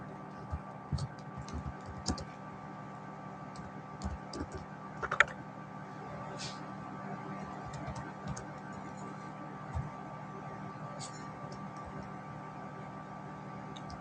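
Sporadic clicks of typing on a computer keyboard, scattered light taps over a steady low hum, with no talking.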